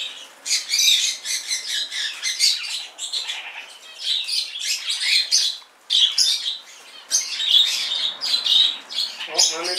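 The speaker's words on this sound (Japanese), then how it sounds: "さっきまでは荒らし回ってましたね、コガネメキシコとかウロコインコが。" Parrots and conures, sun conures among them, squawk and chirp in shrill, overlapping bursts from close by, a near-continuous chorus of loud raspy calls broken by brief lulls.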